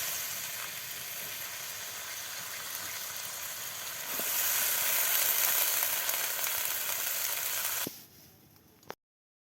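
Malabar spinach, with a potato, goes into a pan of fried spices for a duck-egg dal dish, and a steady loud sizzle swells as the greens land, then cuts off abruptly near the end, close and with no voices.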